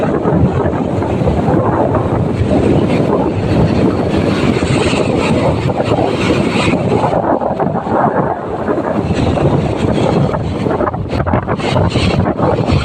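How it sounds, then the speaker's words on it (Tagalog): Steady roaring wind from the northeast monsoon buffets the microphone over a broad rushing wash of big waves like heavy surf, loud and unbroken throughout. "Lakas ang hangin at malalaki ang alon."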